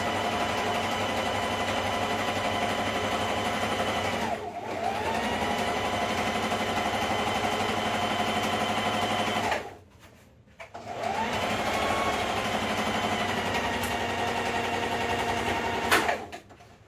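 A sewing machine stitches alterations on a pair of overalls, running steadily with a brief pause about four seconds in, a longer stop near ten seconds, then resuming until the end.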